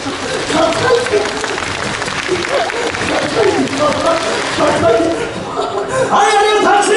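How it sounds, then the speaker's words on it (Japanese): Audience applause at a Universal Studios Japan street show, a continuous crowd clapping wash with voices talking and calling over it throughout. "はい、ありがとう、拍手。"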